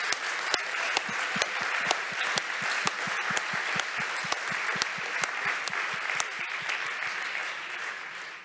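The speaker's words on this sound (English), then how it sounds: "that would deserve a big applause" A large crowd at a health forum's closing ceremony applauds loudly and continuously, the dense clapping carried by a steady, evenly spaced rhythmic beat of synchronized claps throughout.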